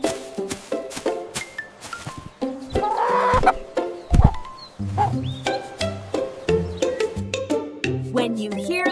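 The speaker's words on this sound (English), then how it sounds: "When you hear the rooster, shout cock-a-doodle-doo with us." A rooster crows over a busy mix of other farm and wild animal calls, with loud repeated clucks and cries layered throughout, close and dense.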